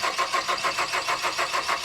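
A car engine cranks in freezing cold weather after a battery boost from a roadside technician. The starter churns loudly in a fast, even rhythm of repeated pulses, with no voices over it.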